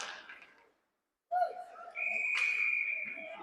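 At a youth ice hockey game, a referee's whistle sounds in a sustained shrill blast after a short tonal burst, somewhat distant and mixed with arena noise and crowd chatter.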